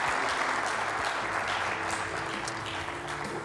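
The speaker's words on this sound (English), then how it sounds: "Big round of applause, please." A crowd claps for an honoree at a monthly Mesa Morning Live show, sustained dense applause filling the room at steady strength, with faint low murmurs beneath and no clear speech.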